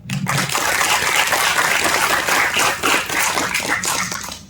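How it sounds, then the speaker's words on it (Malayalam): An audience at a short film event in Trivandrum claps steadily and loudly throughout, a dense, continuous wash of applause with no talk over it. "I think he deserves A much more clap"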